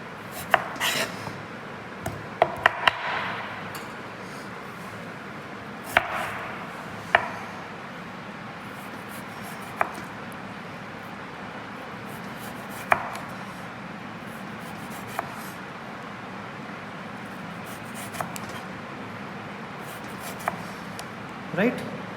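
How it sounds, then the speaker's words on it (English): A knife cuts vegetables into julienne strips on a board, giving scattered sharp taps and clicks, while a person keeps talking throughout. "and then again have to cut like a julienne"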